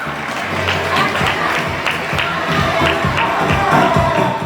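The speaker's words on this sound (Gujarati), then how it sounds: "તાળીના ગગડા." An audience applauds at a community education awards ceremony, a dense wash of steady clapping with some cheering, loud and sustained throughout.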